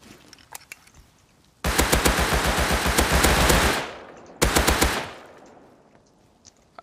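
Rust gunfire: two fast bursts of automatic shots, close and loud, the first lasting about two seconds and the second shorter, with quiet game noise between.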